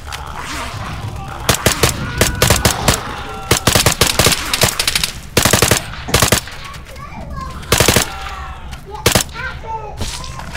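ARMA 3 combat with repeated loud bursts of automatic gunfire and single shots in rapid volleys, mixed with scattered crackling fire at varying distances and voices talking over it.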